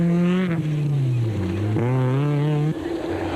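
A JP Hubert and Errol Hodgson N1 class 4x4 Kia Sportage off-road race car at the Sugarbelt 400 roars past close by, its engine note rising and falling through gear changes before cutting off sharply near the end.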